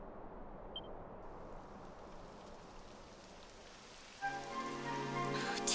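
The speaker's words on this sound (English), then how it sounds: "It would have to go and start raining, wouldn't it?" Rain starts to fall in a video game: a soft, steady patter of rain on surfaces, faint and continuous, with a music cue entering near the end.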